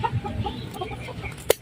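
Chickens cluck close by in a backyard garden in a short burst of soft, scattered calls.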